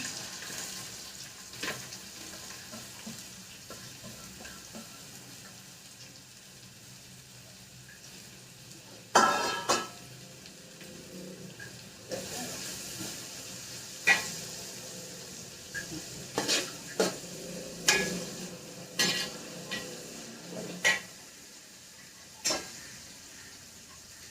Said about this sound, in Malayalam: ഒരു നാല് സവാളയും ഒരു അഞ്ചാറ് പച്ചമുളകുണ്ട് അത് ഒന്നിച്ചിടാം